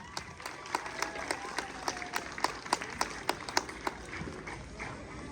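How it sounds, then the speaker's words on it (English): A school audience at a 5th grade appreciation assembly gives a steady round of light, fairly distant applause, individual claps ticking out evenly for about five seconds with no voices over it. "we will clap for him as well"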